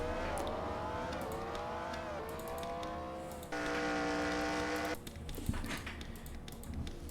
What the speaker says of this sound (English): Lots of cars coming down to the pits.